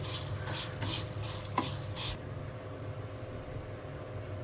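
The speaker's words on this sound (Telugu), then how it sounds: "డ్రై ఫ్రూట్స్ వేపిన నెయ్యిలోనే ఇప్పుడు సేమియాలు వేస్తున్నా." Vermicelli fries in ghee left over from frying dry fruits, stirred with a few quick scraping strokes against the pan over a low sizzle, then a quieter steady fry, close and with no talk.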